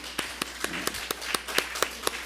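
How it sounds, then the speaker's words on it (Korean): A church congregation claps during a Friday worship service, giving a round of applause for the worship team; about ten distinct, evenly spaced claps ring out over a quiet room, fairly faint. "여러분 큰 한번 박수를 한번 보내보면 어떨까요?"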